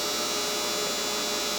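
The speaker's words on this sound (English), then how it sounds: "that's my dryer." A clothes dryer runs with a steady, loud mechanical hum and whir that holds unchanged throughout, with no speech over it.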